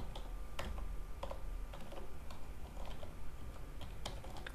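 Fingers type on a computer keyboard while C# Windows Forms code is written, irregular soft key clicks tapping away at low volume with no voices.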